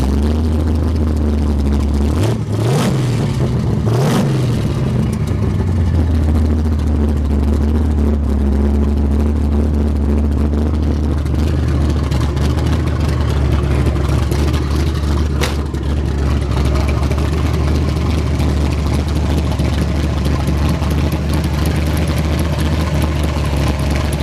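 A 1971 Chevrolet Vega GT with a nitrous setup fires up by push-button start, cranking briefly before settling into a steady, loud, rumbling idle that runs on throughout.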